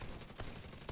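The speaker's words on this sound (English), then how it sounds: "Shotgun." Shotgun blasts in The Division 2, a few loud sharp bursts spaced across a second, with dense broadband noise between them.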